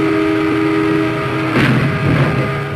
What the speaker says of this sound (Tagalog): Nasalpok naman ang tren na yan ang SUV na nakahinto sa riles.